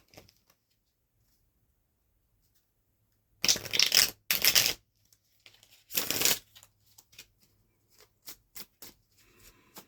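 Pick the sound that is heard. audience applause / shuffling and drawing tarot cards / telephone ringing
shuffling and drawing tarot cards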